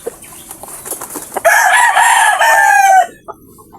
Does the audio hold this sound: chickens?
yes